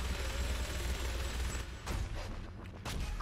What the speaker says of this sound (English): You can use both turrets to clear a path.